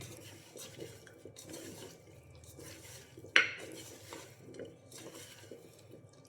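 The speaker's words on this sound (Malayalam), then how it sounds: "ഇത്രയും ഇട്ട ശേഷം നന്നായി യോജിപ്പിക്കും." Meat curry being stirred and mixed in a pot, soft quiet scraping and shuffling, with one sharp metallic clink of the spoon against the pot midway.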